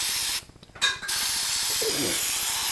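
Non-chlorinated brake cleaner is sprayed from an aerosol can onto disassembled rear end parts of a Snapper mower, a loud continuous close hiss broken once by a short pause, then resuming steadily.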